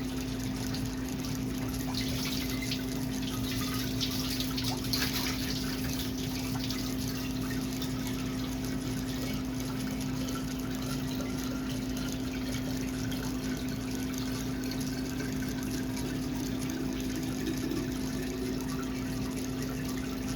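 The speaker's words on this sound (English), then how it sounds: "Have to give them a rinse before filling to get any dust out." Tap water runs and splashes into a container as it is rinsed before filling, a steady close pouring wash over a constant low mechanical hum, with no talking.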